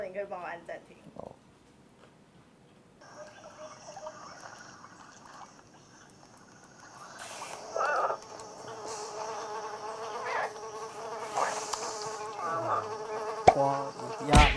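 A buzzing fly played back through the four speakers of a Samsung Galaxy Tab S4 tablet, a thin droning whine that rises and grows louder and busier toward the end, with people talking over it.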